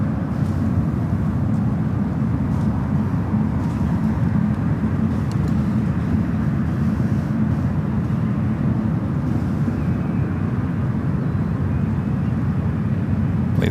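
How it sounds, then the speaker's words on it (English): An Air France Boeing 777-300ER taxis at San Francisco airport, heard as a steady, distant low jet-engine rumble and roar that holds constant throughout. "So Air France sending back to Paris in this 777-300ER heading to runway 28 left."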